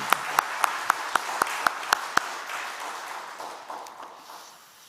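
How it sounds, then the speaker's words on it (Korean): A church congregation applauds during a Sunday worship service: a burst of sharp, evenly spaced claps for about two seconds, then fading into softer, scattered applause in a reverberant room. "우리 두 분을 위해서 다시 한번 우리 박수 한번 할까요?"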